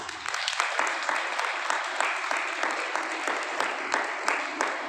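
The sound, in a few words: audience clapping for themselves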